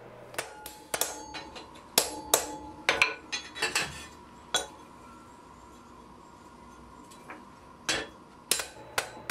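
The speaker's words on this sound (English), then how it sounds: "I use a cross peen to forge out the pad" Blacksmith forging a bellows pad with a cross peen hammer, sharp ringing metallic strikes in uneven bursts with pauses between, close and clear with a faint ringing tone lingering underneath.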